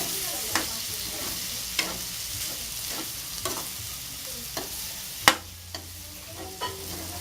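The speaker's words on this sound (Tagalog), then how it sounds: "add the kinchay and then saute again" Kinchay (Chinese celery) sautéed in a pan for a pork and tofu dish gives a steady low sizzle. Sharp scrapes and clanks of stirring recur about every second, with one loud knock near the end.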